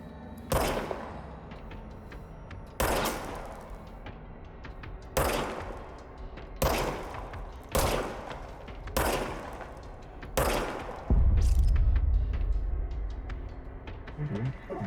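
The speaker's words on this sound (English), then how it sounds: "I have a weird gun. It shoots weird bullets." A weird gun in the video game Control fires six heavy shots, each a loud broadband blast spaced about two seconds apart, followed by a deep low rumble near the end.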